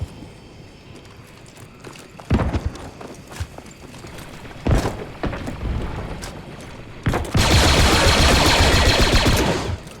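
Sharp bursts of gunfire in the video game Squad crack out at intervals, ending in a long sustained roar of rapid shots, with a low steady background hum underneath.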